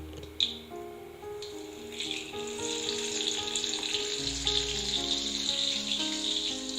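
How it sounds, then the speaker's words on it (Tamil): Tomatoes sizzling and sautéing in a hot pan for small-onion chutney, a steady close frying hiss with a brief clatter near the start and the sizzle growing fuller and louder toward the end. "இப்போ தக்காளி நல்லா வதங்கி வந்தாச்சு"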